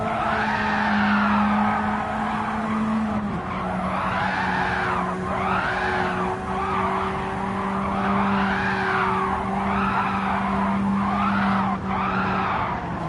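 Radical race car tires skidding and squealing at Road Atlanta in a series of rising and falling wails over a steady engine drone, loud and close.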